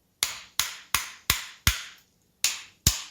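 Seven sharp, hard knocks on a dried birch branch gone iron-hard after a winter of drying in storage, spaced roughly evenly with a brief pause before the last two, close and loud.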